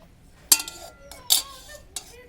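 A small child stirs potatoes in a wok while cooking on a rooftop, making three sharp metallic scrapes and clinks spaced about a second apart, close and fairly loud against a quiet background.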